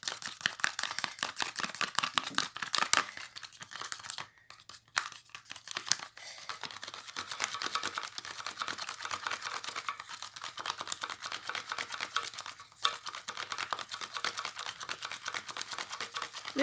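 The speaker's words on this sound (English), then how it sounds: "Please don't fail to stir it very well." Spoon stirring a thick mixture of honey and aloe vera gel for a homemade cough remedy, giving dense continuous scraping and sticky crinkling strokes close by with brief pauses, no talking.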